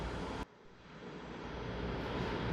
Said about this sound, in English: we got the engine to start. It sounded okay, it fired right up